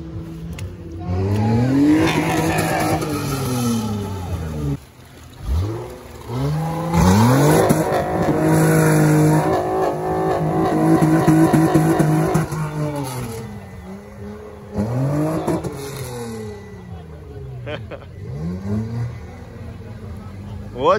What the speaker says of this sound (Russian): Двигатель V6 Infinity. Ну, он же Nissan.